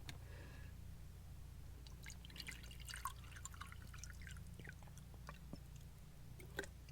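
Water is poured from a bottle into a glass, heard as faint, quiet trickling and scattered drips in a still room.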